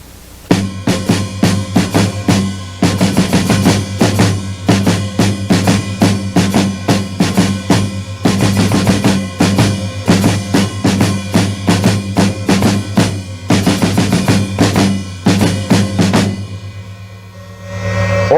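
Drum kit playing a Latin rock rhythm with broken sixteenth-note patterns, loud, close and steady, with a repeating groove of kick, snare and cymbal hits that stops near the end and leaves a brief ringing decay.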